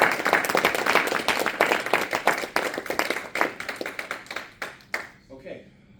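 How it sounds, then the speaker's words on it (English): A university lecture audience gives a round of applause, loud dense clapping that gradually thins into scattered claps and fades out near the end. "Round of applause again, please."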